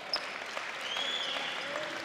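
Home crowd at a Mohawk vs Fanshawe men's college basketball game, faint distant applause and cheering with a few whistles over gym ambience.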